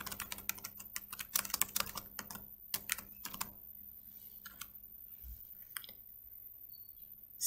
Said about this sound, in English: type in the name of your assessment